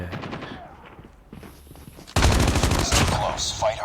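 Gunfire in Call of Duty Mobile in a Gun Game team fight: after some sparse shots and chatter, a sudden loud burst of rapid automatic fire rattles on continuously, with voices talking under the game audio.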